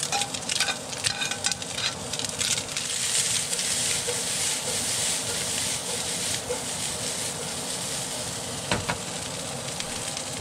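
Onion goes into rice cooking in a pan, bringing a steady close sizzle with scraping stirs and scattered utensil clicks, the loudest stirring early on before settling into a continuous fry.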